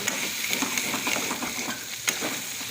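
Chicken frying in a little oil in a non-stick pan for Pallipalayam chicken makes a continuous close, crackling sizzle, with a few light pops and utensil ticks.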